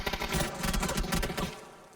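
A rapid burst of video game gunfire rattles off in quick succession, loud and close, then cuts out abruptly.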